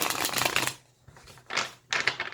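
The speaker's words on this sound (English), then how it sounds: "I did like kind of meditate a little bit and shuffle your deck" A tarot deck is shuffled by hand in quick bursts of crisp, papery riffling and flicking, close and fairly quiet, with brief pauses between rounds.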